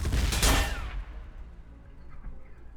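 Basilisk artillery fire in Warhammer Battlesector, a heavy booming blast with a crackling burst that quickly dies away into a low rumbling tail.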